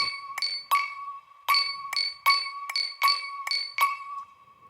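A bright, pitched-up laser synth layered with a glassy sample plays a rhythmic pattern of ringing plucks, about ten sharp hits with short decays, clean and alone.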